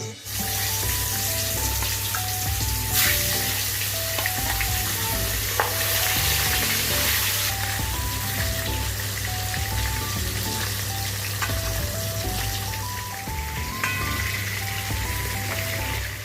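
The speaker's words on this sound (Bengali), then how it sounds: "তেল খুব ভালোভাবে গরম হয়ে গেছে, মাছগুলো আমি দিয়ে দেবো" Katla fish pieces fry in hot oil with a loud, steady sizzle and crackle that runs the whole time. Background music plays along with it, and no one talks.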